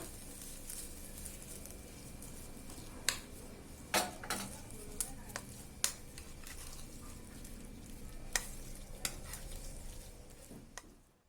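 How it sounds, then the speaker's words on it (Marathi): Hot tempering of mustard seeds, curry leaves, turmeric and asafoetida poured over dal for raw-mango dal, then mixed: a soft continuous sizzle with scattered spoon clinks against the pot, quiet and close. "फोडणी आता आपण डाळीवरती घालूया आणि मिक्स करून घेऊया"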